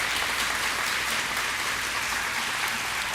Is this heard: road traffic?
no